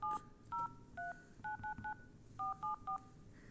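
Keypad dialing tones from a smartphone: about ten short, clean beeps in irregular groups, fairly close and moderately loud over a low background hum, with no talking.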